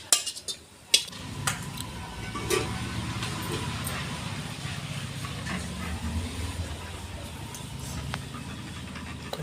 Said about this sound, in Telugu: ఇదంతా ఊడ్చి ఇలా కలుపుతా.